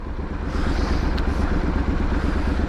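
Triumph Street Scrambler 900 motorcycle riding through town, its engine and exhaust giving a steady throbbing low rumble heard from the rider's position, continuous and fairly loud with some clatter.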